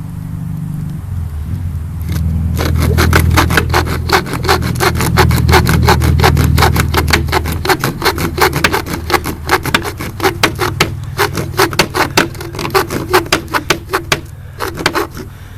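Steady rapid back-and-forth sawing with the M48 Bowie knife's saw-back blade cutting through a thin piece of wood, close and loud, a rasping drone that breaks into quick rhythmic strokes.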